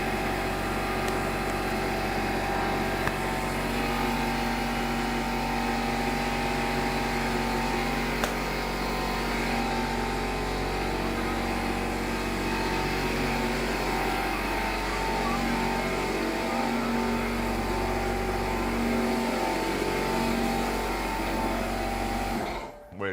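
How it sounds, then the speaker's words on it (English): A small air compressor in a woodworking shop runs steadily for the whole stretch, a constant droning motor hum with a steady pitch, loud and close, cutting off abruptly at the end. "I really need to get a bigger compressor."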